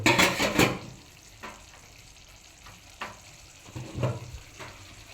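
Pigeon meat frying in a pan, stirred so a burst of loud sizzling and scraping comes first, followed by quieter sizzle broken by a few sharper stirring scrapes, close up and with no talking.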